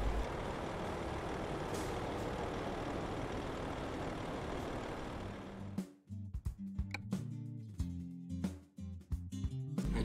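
A heavy truck in Euro Truck Simulator 2, on a run from Panevėžys in Lithuania to Riga in Latvia, drones loudly and steadily, then quietens into a string of sharp air-brake hisses and clunks.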